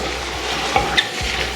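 Eggs going into a pan of Chinese fried rice, with a steady frying sizzle and a few stirring and scraping knocks against the pan, close and fairly quiet.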